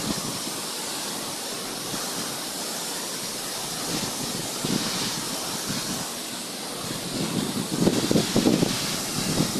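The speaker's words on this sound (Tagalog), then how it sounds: "Tingnan naman ang lakas ng agos." Strong river current pouring over a hidden waterfall in Pangil, Laguna, a steady loud broadband rush that swells slightly toward the end, with no voices over it.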